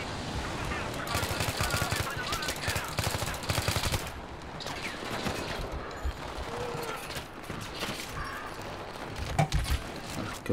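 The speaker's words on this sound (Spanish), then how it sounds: "Voy a coger la ametralladora y me voy para abajo" A machine gun fires in the Battlefield 3 PC campaign. Rapid, dense bursts of automatic fire rattle almost without a break, with other battle noise mixed underneath.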